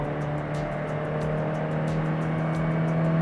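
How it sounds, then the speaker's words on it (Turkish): A Kia Broadway car accelerates in third gear with a steady, droning engine note and road noise heard from inside the cabin, with no talk. "Şu an Üçüncü viteste basıyorum 70, 80"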